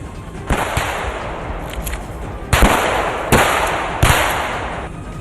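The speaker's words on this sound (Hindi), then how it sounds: "बर्फ में छुपे रूसी सैनिक हथियारों समेत बाहर निकले और गोलियां बरसाने लगे" Russian soldiers emerging from snow during a military exercise fire their weapons in several loud cracking bursts, with sharp repeated reports echoing across open ground.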